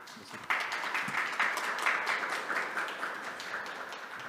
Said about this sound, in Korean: 큰 박수로 모시도록